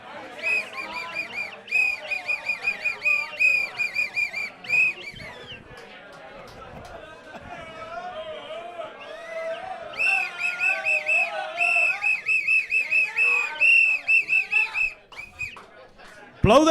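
A shrill whistle blown in repeated bursts as a tune at a live sports show during an NRL Roosters versus Dolphins Magic Round game, with crowd chatter and talk around it.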